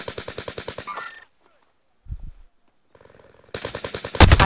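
Rapid automatic fire from a turret-like gun in Warzone, with a fast even burst, a pause, a brief thump, then another dense stream of shots ending loud and close.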